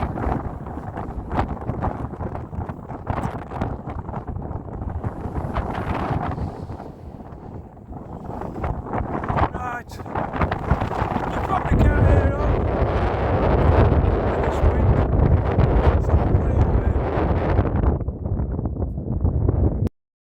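Strong coastal wind gusting across the microphone on the Cleveland Way cliff path between Scarborough and Whitby, a constant loud roar that swells heavier in the second half.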